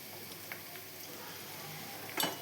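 Rajma beans with turmeric dry-roasting in a pan, a faint, soft sizzle with light scattered crackles and one brief sharper scrape near the end, no voices.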